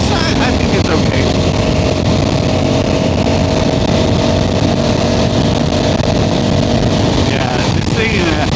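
Honda Africa Twin Adventure Sports ES DCT motorcycle with a 105 horsepower engine, ridden at steady speed, giving a loud continuous engine drone mixed with heavy wind rush throughout.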